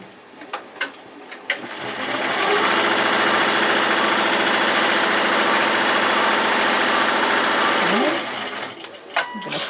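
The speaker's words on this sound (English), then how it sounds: "Okay, so now it's going to sew down the bottom." An embroidery machine stitches the bottom of an in-the-hoop boxed bag, a rapid steady mechanical chatter running for about six seconds after a few clicks, then slowing to a stop with a couple of clicks; a voice speaks faintly at the start.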